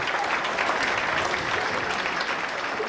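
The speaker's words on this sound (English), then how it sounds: "these people want to clap" A comedy show audience claps steadily, a dense, even wash of applause from a crowd filling the room throughout, with no voices standing out.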